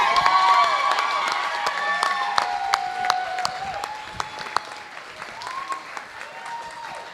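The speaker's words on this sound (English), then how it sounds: "Round of applause." Applause at a Board of Education meeting, with scattered clapping and some cheering from a crowd that is fairly loud at the start and slowly thins out, while voices carry through and over it.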